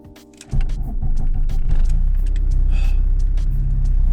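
A Volkswagen Golf MK2 diesel with glow plugs cranks and fires up after a quiet moment, then settles into a steady, close, rough idle that runs on alone.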